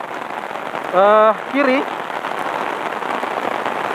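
Steady rain falls across a toll road construction site, a dense hiss running the whole time, with a voice speaking briefly near the start.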